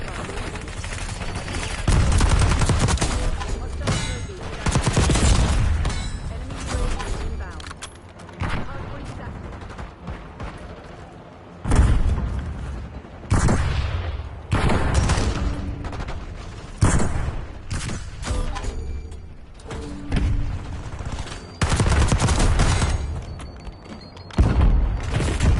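Repeated loud bursts of automatic gunfire in Black Ops 6 ranked play, with booming hits and thuds arriving in long rattling stretches broken by short pauses.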